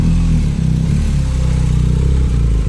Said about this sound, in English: taking a spin of his motorcycle before we ship